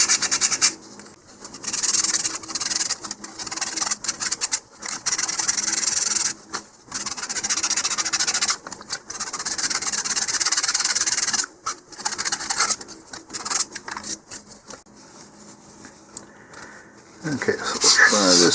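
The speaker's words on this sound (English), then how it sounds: "and we'll just sand that ring." Repeated rough scratching strokes of sandpaper sanding a ring on a model rocket, close up, in uneven bursts with short pauses between them.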